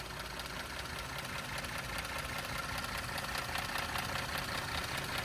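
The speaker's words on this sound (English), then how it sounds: "So as you guys can tell, nice and smooth running engine, no odd noises or vibrations." A 2016 Ford Explorer Sport with its EcoBoost engine idling, heard from the open engine compartment as a steady, even hum with a fine mechanical patter, no voices over it.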